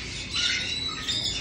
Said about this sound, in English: Yeah, you're a good bird.